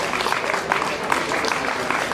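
Audience applauding as a speaker is called to the microphone at a gathering, brief, moderately loud clapping from a crowd.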